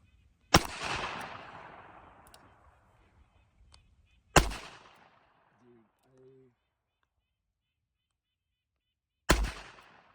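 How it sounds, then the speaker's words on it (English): Webley Mk IV revolver firing .38/200 rounds outdoors: three loud, separate gunshots spaced several seconds apart, each cracking sharply and then echoing away, with brief faint speech between them. "I put 3 rounds of 38-200 through this."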